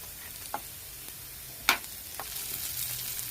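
Crispy corn fries in a pan with a soft, steady sizzle and a few separate clinks or scrapes, one of them louder, with no voices.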